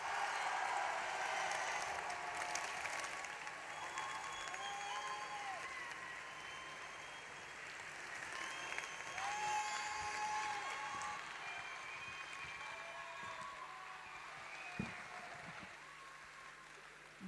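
A crowd at a Benoît Hamon campaign rally in Nancy applauds former housing minister Cécile Duflot as she comes on stage, with sustained clapping, cheering and faint music filling the hall throughout.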